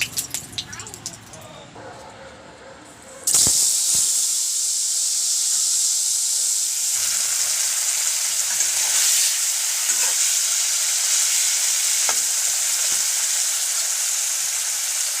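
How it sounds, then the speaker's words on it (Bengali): Paneer frying in hot oil in a pan for a Bengali-style matar paneer, a sudden loud, steady sizzling hiss that starts after a brief quieter moment and keeps going without a break. "এখন এর মধ্যে দিয়ে দিব পরিমাণ মতো তেল পনির ভাজার জন্য।"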